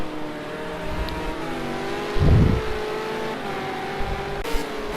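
V8 Supercar engines roar through a corner at Zolder as a car power slides, a steady engine drone with a sudden louder burst near the middle, then more engine tone continuing.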